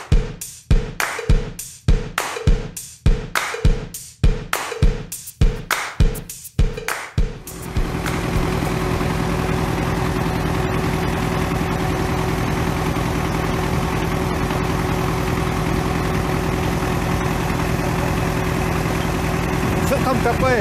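A large tractor on a foundation-pouring site first thumps in a run of about a dozen rhythmic, loud pulses, then settles into a steady, close, continuous engine drone with a deep hum.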